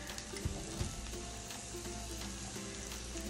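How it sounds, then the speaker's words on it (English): Oil sizzles steadily in a pan while a utensil stirs it, with a couple of sharper scraping knocks near the start. It is close and continuous, with no talking. "I'm gonna stir it so it doesn't burn."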